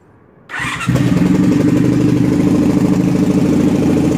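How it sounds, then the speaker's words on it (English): A motorcycle engine cranks and fires up, then settles into a loud, steady, throbbing idle close by. "And this is what my bike sounds like."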